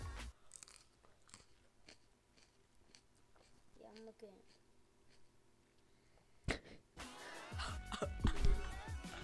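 Someone bites into and chews a hot chili pepper during a spicy-pepper penalty challenge, with brief crunchy bites and chewing sounds up close, followed by a louder burst of voices and movement near the end.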